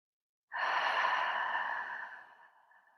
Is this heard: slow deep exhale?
yes